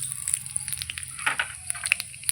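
Whole cumin seeds tempering in hot oil in a kadai, giving faint, scattered crackles and soft sizzling pops over a quiet background.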